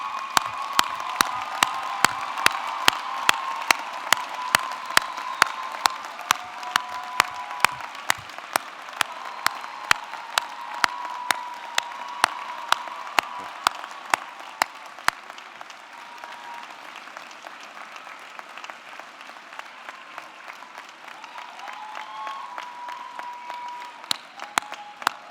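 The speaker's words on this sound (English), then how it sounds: "give them a round of applause for all of their support" Graduates at a commencement ceremony applaud their families in a long, dense round of clapping that lasts throughout, with scattered cheers and whoops early on and the crowd thinning slightly toward the end.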